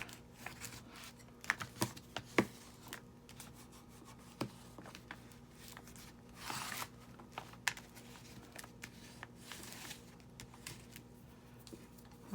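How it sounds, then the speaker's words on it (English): Paper being burnished over taped paper for a paper bag journal, giving a soft, steady rubbing and scraping with brief sharper scuffs and taps, close up with no voices. "So now I'm going to burnish it."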